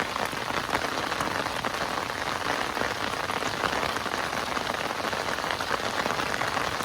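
Steady rain pours down beside a riverbank fishing spot, a dense, even hiss of drops hitting surfaces that continues without a break, with no voices.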